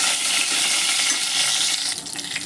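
Curry leaves added to hot oil with garlic, giving a loud, continuous hiss and sizzle as they fry in the pan, easing slightly near the end.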